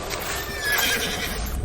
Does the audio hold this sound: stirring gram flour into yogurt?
no